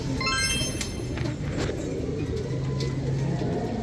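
Racing pigeons coo steadily over a dense, noisy background of bird sounds, close and continuous.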